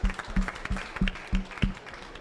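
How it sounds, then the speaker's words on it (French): A small studio audience on a French television show applauds in a steady, moderately close patter of claps, fairly soft and uneven, with no voices over it. "Et on peut t'applaudir."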